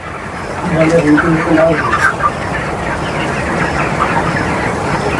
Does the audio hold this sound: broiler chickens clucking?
yes